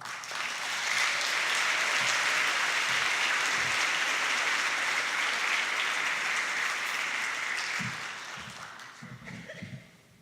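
Convocation audience applauds President Bardo's welcome to the stage, a loud, sustained burst of clapping lasting about eight seconds before tapering off, followed by a few faint thumps.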